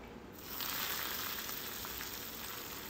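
Dried red chillies and curry leaves sizzle in hot oil for a tempering, a steady close crackling hiss that swells in just after the start and holds without talk.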